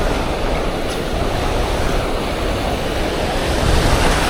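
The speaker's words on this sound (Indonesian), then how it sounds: "Ombaknya luar biasa, bersilang-silang ombaknya" Crossing ocean waves surge against a rocky fishing spot in a loud continuous roar of churning surf and wind, with no talking.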